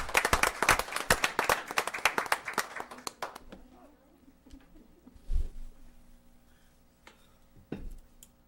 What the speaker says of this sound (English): Let's have a warm round of applause for all of them.